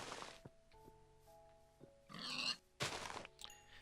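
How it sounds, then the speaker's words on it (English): Pigs oink and grunt in the Minecraft video game, several short close snorts scattered over a few seconds among faint background tones and game noises. "This is like the most amount of pigs I have ever seen in one area."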